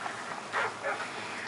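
Attack dogs bark and yelp briefly in Call of Duty Modern Warfare 3 survival mode, with two short, fairly faint barks heard over a steady game background hiss.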